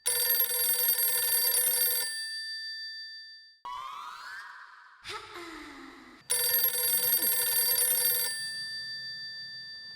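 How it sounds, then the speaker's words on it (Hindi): A phone rings loudly in bright repeated bursts, broken by short electronic chirps and sliding tones before the ringing returns. "इसका फोन है भाई।"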